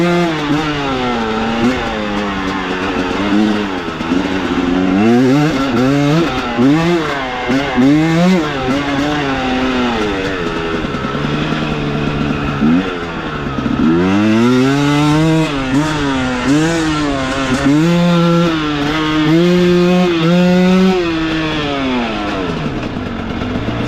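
A KOVI 300 Pro 2T enduro motorcycle's two-stroke engine holds second gear, loud and close, its pitch rising and falling through repeated revs and throttle swells over steady riding.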